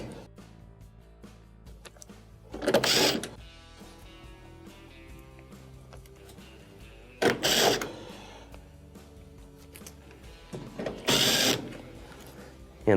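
Screws being driven back into a washing machine's back plate, three short bursts of whirring driver noise separated by quieter pauses with faint mechanical clicks.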